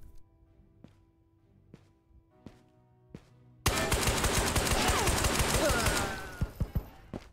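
Sustained automatic gunfire in the video game Ghosts of Tabor, a loud dense burst of rapid shots lasting a few seconds after several soft clicks, then tapering off.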